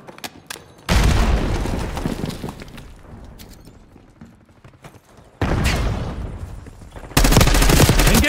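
Gunfire and explosive blasts in the shooter Call of Duty Black Ops 6, heavy bursts erupting in three loud waves separated by quieter stretches of distant crackling.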